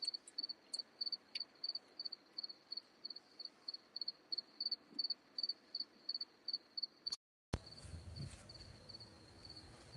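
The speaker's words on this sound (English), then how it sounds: "And you hear all the cicadas." Cicadas chirping outdoors in a fast, even train of faint, high, rhythmic pulses, ending with a brief dropout and then a burst of closer rustling handling noise.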